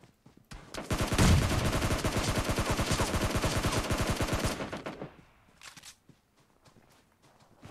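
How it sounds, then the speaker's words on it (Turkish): Rapid automatic gunfire from behind in the mobile battle royale game PUBG Mobile Lite: a loud, continuous burst of evenly spaced shots lasting about four seconds, then quieter scattered sounds and a couple of distant shots. "Arkadan alandan sıkıyor"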